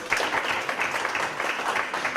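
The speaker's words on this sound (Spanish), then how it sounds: "Vamos a darle un aplauso a ese gesto" A crowd at a book launch for author León David claps in a steady, fairly loud burst of applause that stays even and continuous throughout.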